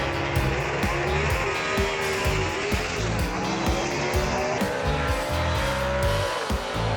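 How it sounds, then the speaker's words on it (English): A gasser-class drag race car launches off the starting line at Knoxville Dragway, its engine roaring loud and close with rapid gear-driven surges and a rising pitch, mixed with tire noise over the whole stretch. "he went straight off the starting line and got a good launch"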